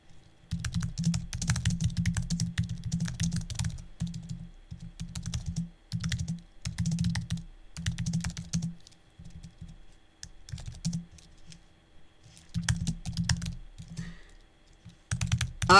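Someone types on a computer keyboard in bursts of rapid key clicks, pausing briefly between runs, close and fairly clear with no talking.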